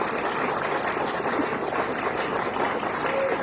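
Applause from an audience at a press conference, a dense, even wash of clapping that holds steady at a moderate level for the whole stretch.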